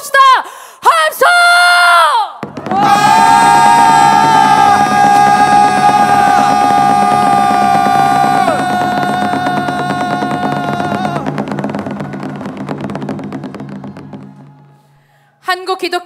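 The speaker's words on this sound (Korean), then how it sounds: "최후 승리를 위한 뜨거운 함성을 하늘로 올려봅시다" A crowd at a memorial ceremony for a coercive conversion victim lets out a loud, sustained collective shout that holds for about ten seconds and then fades, with a brief burst of voices just before it.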